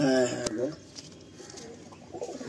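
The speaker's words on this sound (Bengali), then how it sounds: "এটা অনেক ওল্ড লাইন পায়রা" An old line Giribaj pigeon gives a short, low coo near the start, followed by quieter background noise, with a voice also present.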